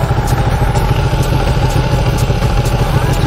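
A Ducati Panigale 1299 motorcycle engine idles steadily and loudly up close, with a continuous low throb and faint mechanical clatter, no talking over it.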